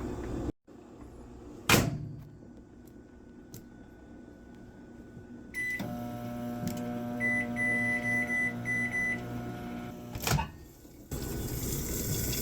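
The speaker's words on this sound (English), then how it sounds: "And go ahead and microwave that until it boils." A microwave oven heats water for agar gummies: a door thump and beep, then a steady low electric hum with faint whirring runs for several seconds before a click and the door opening again.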